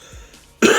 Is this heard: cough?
yes